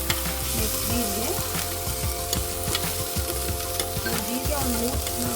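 Cumin seeds sizzle and crackle in hot oil for a quick dal rasam, with a steady frying hiss, scattered pops and occasional stirring scrapes, close and continuous throughout.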